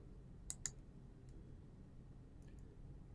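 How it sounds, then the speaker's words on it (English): A few sharp, faint clicks of a computer mouse, two close together at first and a couple more a moment later, in an otherwise quiet room. "To view the invoice menu, just click on this icon."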